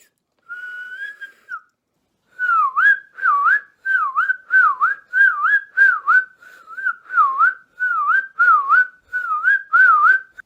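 A whistled tune of short, rising and falling notes repeated in a steady rhythm, close and clear, after one opening held note and a brief pause.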